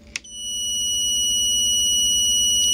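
A buzzer wired to a 5 volt supply beeps without a break, a steady high-pitched electronic tone that holds from start to finish, close and fairly loud, with a faint background hum.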